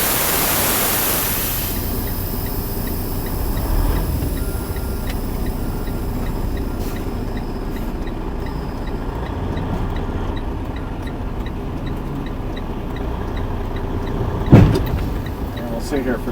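A truck's air suspension airbags filling with air after the airline is charged: a loud sustained hiss of air over a steady engine idle, with faint ticking and a brief knock near the end.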